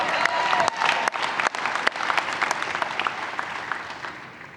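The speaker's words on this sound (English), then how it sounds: "it's okay to clap" A room of people clapping at a spring graduate commencement ceremony, steady applause with a few sharp louder claps, gradually tapering off.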